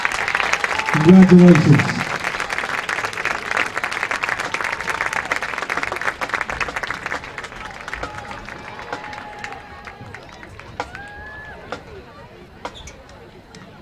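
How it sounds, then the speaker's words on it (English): Crowd cheers and applause at a 2021 Toronto Red Knight high school football game against Lisbon, loudest at the start then settling into a broad outdoor crowd murmur, with an announcer speaking over it. "Let's have another big round of applause."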